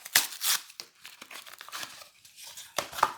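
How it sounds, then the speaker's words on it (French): Plastic packaging on a Yu-Gi-Oh structure deck is ripped open by hand, with sharp crinkling and tearing bursts close up and a final crisp rip near the end, and no voice. "Bon, allez, on va le déchirer."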